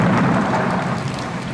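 Steady heavy rain pours in a Bengali cartoon, a dense, loud, even wash of falling drops with a low rumble beneath, unbroken and with no voices.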